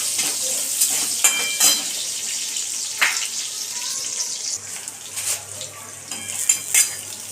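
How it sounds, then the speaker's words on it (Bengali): Chopped green chilli and cumin fry in oil in a pan, a steady sizzle with occasional scrapes and clinks of a utensil stirring close by. "লঙ্কা আর জিরেটা মা ভালো করে ভেজে নিচ্ছে।"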